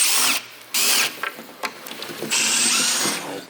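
Power driver spinning out small screws on a Porsche part in a workshop: loud, close whirring bursts that start and stop, with short gaps and a longer final run, no talking.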